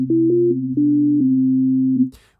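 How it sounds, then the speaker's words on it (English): Default patch of the Newfangled Audio Generate synthesizer plugin: a steady stack of pure sine tones holding a sustained chord, with faint retriggered blips along the way, cutting off abruptly near the end into a brief noisy tail. "which is just a bunch of sine waves"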